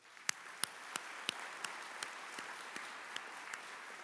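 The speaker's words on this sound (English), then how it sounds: "let's have another round of applause for the Warrior Freedom Dogs Foundation" A few people clap for a dog-training charity at a fundraising dinner: sparse, evenly spaced single claps that sound faint and distant over a quiet room hum.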